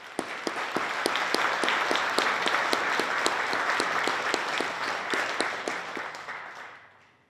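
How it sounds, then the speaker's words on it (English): A crowd at a city state-of-the-city address applauds steadily for several seconds, a dense wash of clapping with a few sharp individual claps, fading out at the end. "Let's give them a round of applause."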